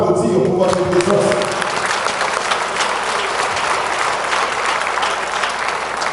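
An audience at a church gathering breaks into loud, sustained applause, dense clapping close and steady for several seconds, briefly overlapping a voice at the start before the clapping carries on alone.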